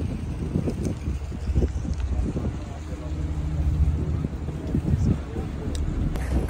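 Boat ride across the sea toward Saint Anne monastery on Mount Athos: a steady low engine rumble with wind buffeting the microphone, and voices talking faintly in the background.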